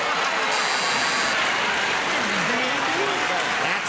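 Studio audience on the 1974 TV game show Match Game '74 breaking into sustained applause, a dense, loud wash of clapping with people talking over it.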